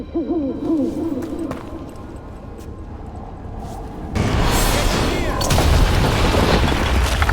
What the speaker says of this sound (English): Another owl.